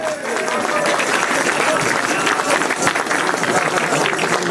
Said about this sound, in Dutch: Mogen we een applaus hebben voor Ruud en Anita.